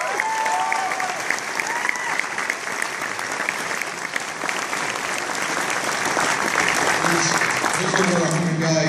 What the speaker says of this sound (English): To hear the applause that you've given